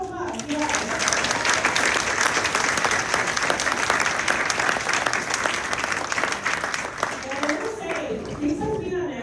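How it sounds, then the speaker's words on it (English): A crowd gives loud, sustained applause for student dancers from Elgin Community College, dense clapping with some cheering, and a voice speaks briefly at the start and end. "Let's give them a round of applause"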